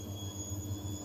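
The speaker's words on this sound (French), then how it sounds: "j'ai ma machine qui tourne, je pensais qu'elle allait être finie" A home washing machine runs mid-cycle, giving a steady low hum and whir with a faint high whine, heard alone and close by.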